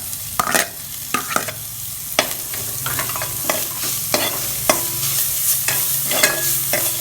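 Chopped small onions frying in a pan for goat leg soup, a continuous sizzle broken by repeated sharp scrapes and clacks of a spatula stirring, close and clear, with no talking.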